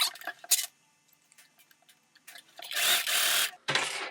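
A home sewing machine runs a stay stitch on pajama fabric for a 1940s-style lounge set, with short close bursts of fast mechanical stitching and light ticks between them, ending in two longer runs.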